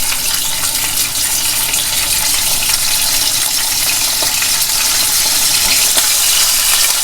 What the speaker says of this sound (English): go ahead and pan fry the fillet. Skin side first.